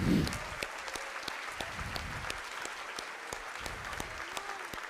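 Sustained applause fills a church as the congregation claps, with crisp claps at an even rhythm over the wash of hands and a brief voice surfacing near the start.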